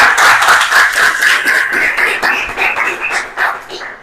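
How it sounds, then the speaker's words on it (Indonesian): Sustained crackling applause fills a vocational high school classroom for a student, steady and fairly loud for several seconds before tapering slightly. "kasih tepuk tangan buat Rifki."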